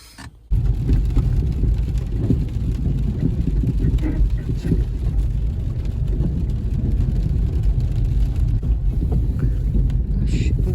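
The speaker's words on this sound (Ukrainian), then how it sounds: "Дощ перищить" Steady rain patters with a low, continuous rumble, loud and constant after a brief quiet start.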